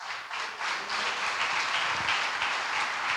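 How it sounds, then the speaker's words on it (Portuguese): A church congregation claps in praise during a Portuguese-language morning thanksgiving service, dense steady applause filling the room from start to finish. "E as palmas, louve a Deus."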